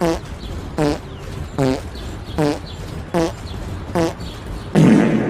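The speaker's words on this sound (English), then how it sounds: "You're literally just farting the melody to Mary Had a Little Lamb." Farting sounds play the melody of Mary Had a Little Lamb in a Family Guy video game, six evenly spaced tonal blasts roughly every 0.8 seconds, followed by a noisier burst at the end.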